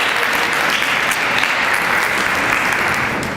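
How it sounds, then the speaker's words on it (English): Crowd at a 2020 city state-of-the-city address gives the Macomb County Chamber a round of applause, steady dense clapping filling the whole stretch at even loudness. "So can we give the Macomb County Chamber a hand of applause?"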